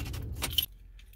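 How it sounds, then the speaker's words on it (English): A car key is pulled out of the ignition of an automatic car stuck in park, giving a brief close metallic jangle of keys against a low steady engine hum, followed by quieter idle. "the easiest thing to do is take your key out"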